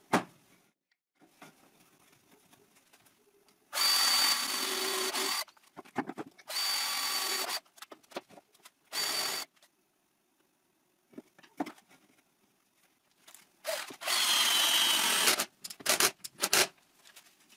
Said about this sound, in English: So first I will screw this piece.